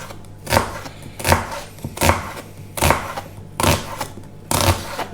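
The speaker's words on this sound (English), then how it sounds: "Get this onion chopped up." Knife chopping an onion on a board, six sharp, evenly spaced strikes over a few seconds, close and fairly loud, with no voices.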